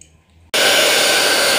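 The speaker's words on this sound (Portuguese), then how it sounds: "Eu vou secar ela agora no secador." A hair dryer switches on abruptly after a moment of near silence and runs loud and steady, blowing air to dry a dog after its bath indoors at home.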